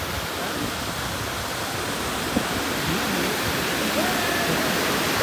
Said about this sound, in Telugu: ఇది ఇండియాలోనే 2nd హైయెస్ట్ వాటర్ ఫాల్ అంట.